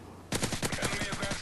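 A PM-9 submachine gun fires in Call of Duty MW3 gameplay: a loud, close, rapid burst of automatic shots in quick succession, with no talk over it.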